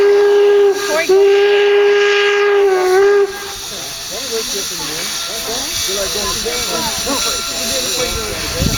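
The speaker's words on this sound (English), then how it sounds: "once they bring the locomotive to a complete stop, you will hear one whistle" A steam locomotive sounds a long, loud whistle at the Golden Spike railroad site in Promontory, Utah, then the tone cuts off and a sustained hiss of escaping steam carries on, with talk mixed in.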